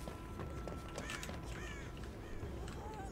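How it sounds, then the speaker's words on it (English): Crows in the horror game Dead by Daylight caw in several harsh calls against a busy background of game noise and ambience, fairly close and with no speech. "these crows stay for 10 years"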